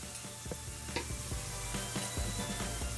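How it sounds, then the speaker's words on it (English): A pound of ground beef sizzles and crackles in a hot cast iron Dutch oven on a stovetop, with steady close frying hiss and repeated scraping clicks of stirring. "First we take a cast iron Dutch oven and get it heated on the stove and put in a pound of ground beef."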